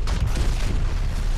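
Heavy, rumbling explosions from the shooter video game BlackSite, with booming blasts piling up continuously and loudly for the whole moment and no pause between them.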